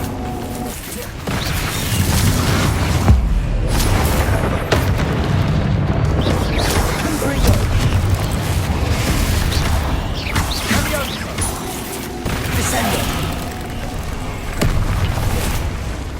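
Bombarda explosion spells in Hogwarts Legacy burst as heavy booms and crashing impacts over a steady rumbling battle bed, with a louder blast near the start and more hits scattered through the fight.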